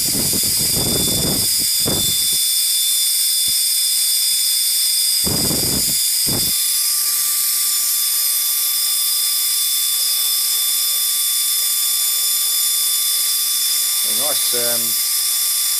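A small 20mm electric ducted fan unit runs with a constant high-pitched whine and airy hiss throughout, with a few short bursts of handling noise and rushing air early on and a brief rising chirp near the end.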